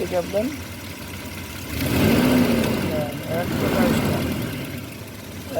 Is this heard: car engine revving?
yes